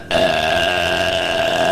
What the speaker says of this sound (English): here's some new burps